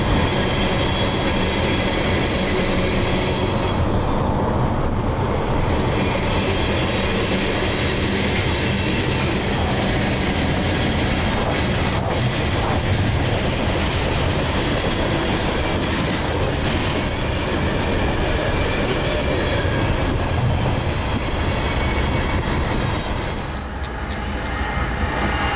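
A long coal train rolls past close by on an August run toward Tampa Bay, with a steady loud rumble of wheels, rhythmic clatter over rail joints and occasional squeal, sustained throughout with no voices.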